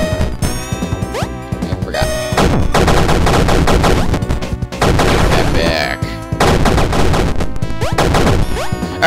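Rapid video game gunfire in Super Crate Box, a loud, dense barrage of repeated electronic shots and bursts layered over busy game music and effects, continuous and nearly nonstop throughout.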